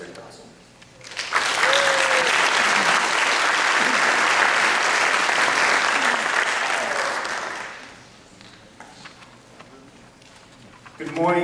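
An audience at a graduation ceremony breaks into loud, sustained applause for a guest speaker, a dense wash of clapping that swells quickly, holds for several seconds, then fades, with a voice speaking briefly at the end.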